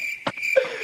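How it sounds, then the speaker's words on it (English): A cricket-chirp sound effect plays as a steady high trill throughout the short moment, with a couple of soft thuds mixed in and no speech. "Crickets. Where's the crickets?"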